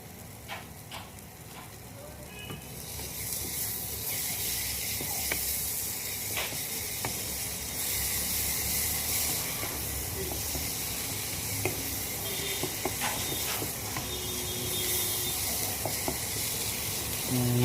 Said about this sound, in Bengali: মশলাগুলো প্রায় কষা হয়ে গেছে